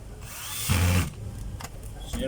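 A DeWalt D25032 rotary hammer is test-run with a short burst of loud motor whine up close, then runs down into lower rattling and clicks. Speech can be heard faintly in the background.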